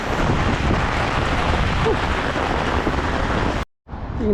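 Strong wind buffets outdoors in Canada, a loud, rough roar pressing on the microphone, cutting out abruptly near the end before faintly resuming.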